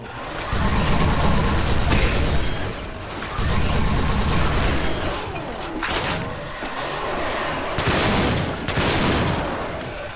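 Machine gun fire in Brutal Doom Project Brutality, loud sustained bursts of rapid shots with short pauses between them, alongside other heavy in-game noise.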